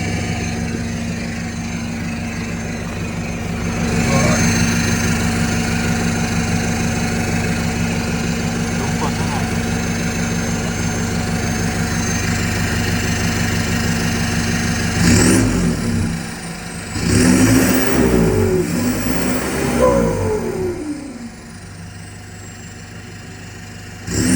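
A 1.9-litre 2017 pickup truck with a cut and welded modified exhaust idles with a steady, close rumble, then revs hard in several loud bursts before settling back to idle.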